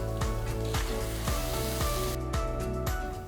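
Chopped tomatoes hit frying onions with ginger garlic paste in a pot, a steady close sizzle running under faint rhythmic stirring taps, with no talking.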